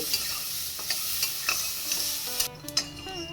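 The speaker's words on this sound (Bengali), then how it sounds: "এই ডালটা এখন আমি তেলের মধ্যে খুব ভালো করে ভেজে নেব" Lentils fry in oil in a pan over low-medium heat, sizzling steadily under repeated stirring scrapes and spoon knocks, with the sizzle thinning out near the end.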